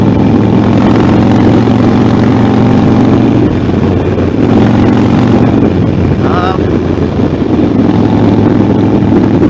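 Harley-Davidson Sportster 1200 motorcycle engine running loud and close, with a steady rumbling drone and gusts of wind noise.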